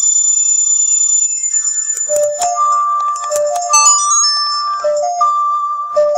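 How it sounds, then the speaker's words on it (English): The Song of Storms melody plays on the ocarina in The Legend of Zelda: Ocarina of Time 3DS, a bright, clear, flute-like game tune of bouncing notes after a sustained tone, with chime-like accents and no talking. "It's the Song of Storms."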